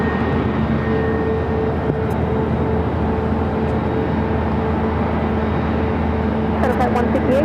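A converted Amazon Air Boeing 767-300ER cargo jet at Phoenix airport gives off a steady, broad jet roar that holds evenly throughout, with a few faint clicks near the end.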